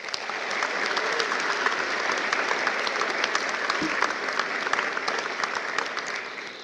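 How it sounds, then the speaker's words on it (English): A commencement crowd at Penn State York applauds its graduating class, a dense, sustained wash of many hands clapping at steady loudness throughout, with a faint voice or cheer briefly rising near the middle. "Can I get a round of applause for them, please?"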